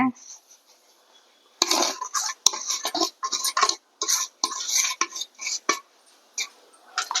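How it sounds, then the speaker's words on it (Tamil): Coconut and semolina tumble into a mixer jar in a home kitchen, producing a run of close, clattering metallic pours and scrapes with small taps against the jar. "தேங்காயும் ரவையும் கொட்டிக்கலாம்."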